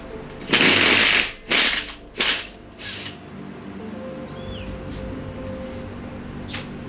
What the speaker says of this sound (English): It's time to undo the bolts.